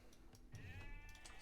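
A sheep bleats once in the video game Age of Empires II, a short wavering cry set against soft game background sound, with some faint clicks around it.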